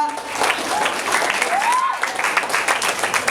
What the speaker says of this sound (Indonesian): Boleh tepuk tangan sekali lagi ya